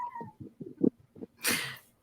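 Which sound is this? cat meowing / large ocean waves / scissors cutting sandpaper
cat meowing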